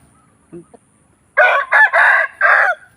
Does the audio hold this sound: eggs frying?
no